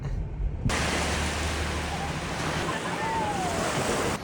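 Surf at Nivati beach on the Konkan coast of Maharashtra washes in as a broad, steady roar, with wind buffeting the microphone and faint voices underneath.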